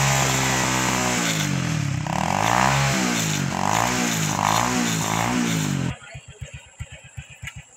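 Small motorcycle engine revving up and down in repeated surges, loud and close, then cutting to a low idling putter with sharp pops near the end.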